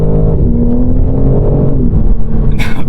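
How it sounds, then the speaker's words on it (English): A 2022 BMW M3 G80 Competition xDrive with a 503-horsepower turbocharged six-cylinder pulls hard under acceleration, its loud, steady engine drone rising in pitch, with a brief hiss near the end. "a turbocharged 6-cylinder pushing out 503 horsepower and about 480 pound-feet of torque"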